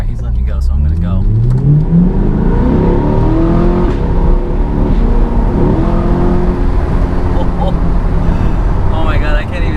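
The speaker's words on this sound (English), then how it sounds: "you get something different in a naturally aspirated V8" A 495 hp Chevy C8 Corvette with a naturally aspirated V8 accelerates hard, its loud engine note climbing through rising pitch sweeps and shifting gears, heard from inside the car without talk.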